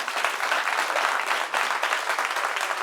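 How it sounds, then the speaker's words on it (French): A studio audience at a talk show claps in a dense, even burst of applause for about three seconds, fairly close and with no voices over it. "Applaudissements pour vous-même, chers amis."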